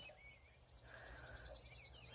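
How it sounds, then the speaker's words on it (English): Birds sing at sunrise in a rain-wet yard with a trampoline, giving a faint, rapid run of high repeating chirps over a quiet low hum. "Hear the birds."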